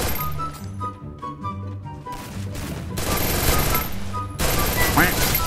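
Gunfire in the mobile battle royale game Free Fire: loud, dense volleys of shots break in over tonal game sounds and grow heavier toward the end.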